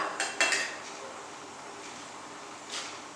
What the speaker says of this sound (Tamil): அப்படியே இவரை மூடி நம்ம வச்சுக்குவோம்